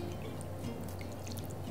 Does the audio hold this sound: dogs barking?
no